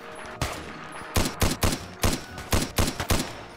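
Gunfire in a Roblox video game rings out as a rapid string of about a dozen sharp, loud shots in an uneven rhythm.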